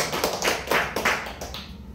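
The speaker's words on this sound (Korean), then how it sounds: "박수를 하나님께 올립니다." Congregation in a church giving God a short round of clapping, a few separate bursts of hand claps at moderate level that trail off toward the end.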